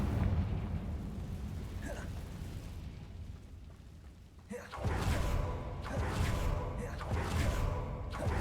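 A Confringo blasting spell going off in Hogwarts Legacy: a sudden burst midway, followed by a string of loud, rumbling blasts over steady game ambience.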